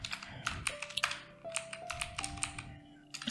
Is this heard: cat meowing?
no